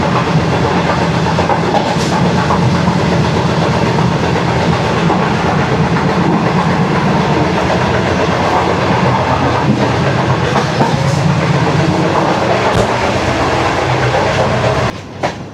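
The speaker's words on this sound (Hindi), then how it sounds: "पूरे 5:08 पर ट्रेन हमारी रोडी जंक्शन पे अप्रोचिंग के लिए बिल्कुल तैयार है और प्लेटफॉर्म पे प्लेस होने जा रही है" Shalimar Express train in Pakistan, riding inside a carriage, rolls on its rails with a loud, continuous rumble and rattle for a long stretch before briefly dropping off at the end.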